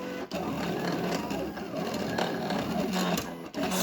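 A Silhouette Portrait cutting machine whirs and buzzes steadily as it cuts, a quiet mechanical drone with faint rhythmic pulses and brief dips, heard up close indoors.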